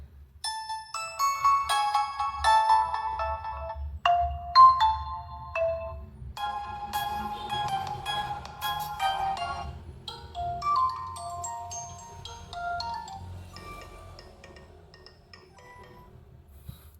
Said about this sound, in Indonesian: Mari kita coba seberapa nyaring speakernya untuk memutar ringtone ya.